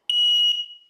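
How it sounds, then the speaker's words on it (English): A household carbon monoxide alarm sounds a single piercing, high-pitched electronic beep, loud and close, that cuts off after about half a second and then rings out briefly. "make sure your house has one of these, an audible CO alarm"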